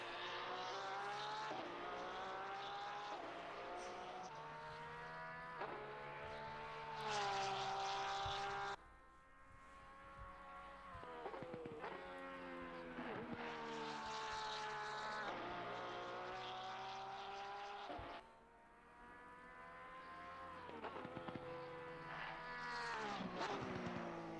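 A Porsche race car in Assetto Corsa Competizione screams around the wet Imola circuit during practice, its engine note rising through the gears in repeated climbs and sharp shift drops, loud and continuous with no voices.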